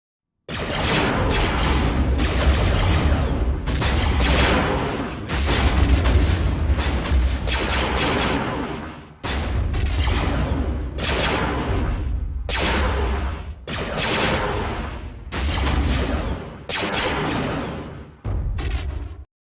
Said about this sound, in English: the Star Wars sound effects mod replaces a whole bunch of in-game sounds and songs, replacing them with a bunch of Star Wars sounds ripped directly from the movies